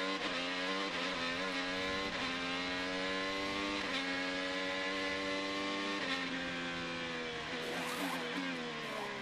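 A 2023 IndyCar engine roars steadily at high revs from onboard on the St. Petersburg street circuit back straight, pitch dipping briefly at gear changes and climbing again, loud and continuous throughout.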